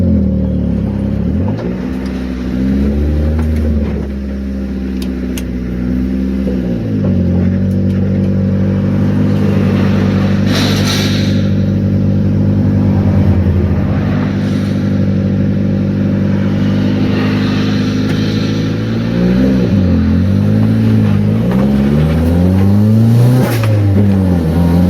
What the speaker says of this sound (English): The turbo noises,